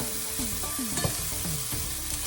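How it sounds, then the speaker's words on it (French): Garlic sizzles steadily as it browns in a pan for a chicken and chorizo sauté, a dense continuous frying hiss with occasional stirring scrapes and clinks, close and alone without talk. "rissoler ça pendant à peu près 2-3 minutes. Et bien faire attention que l'ail ne brûle pas"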